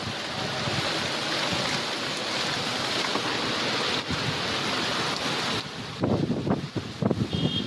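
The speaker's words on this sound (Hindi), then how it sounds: "जिले में मंगलवार को तेज आंधी के साथ झमाझम बारिश हुई।" A heavy rainstorm with strong wind gives a steady, dense roar of rain and gusts throughout, with a few louder rustling bursts near the end.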